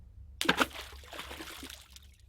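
A single splash into water, like a large fish leaping out and dropping back, from sea water beside a small fishing boat. It lands close and sharp, then settles into a brief sloshing tail.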